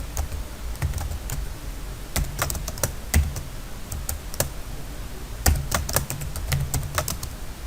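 A computer keyboard clatters steadily as SQL commands are typed, with close, crisp keystrokes in irregular bursts over a constant low background hum.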